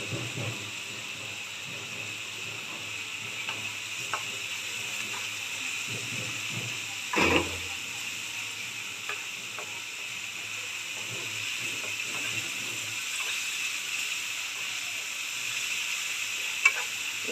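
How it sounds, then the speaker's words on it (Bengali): Crushed garlic sizzles in a pan with already browned onion, a steady frying hiss with intermittent stirring scrapes and one brief louder clatter midway, all at close range without talk. "থেতো করা রসুন দিয়ে দিলাম"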